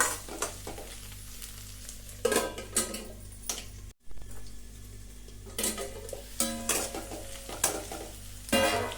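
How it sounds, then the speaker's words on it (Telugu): Sliced ivy gourd fries slowly in oil in a pan over low heat, a steady sizzle broken by repeated scraping stirs and clinks of the spoon against the pan, close and clear with no talk. "కొంచెం నింపాదిగా వేయించుకోవాలి నూనెలోనే. సిమ్లో పెట్టేసి వేయించుకోండి, బాగా వేగుతాయి."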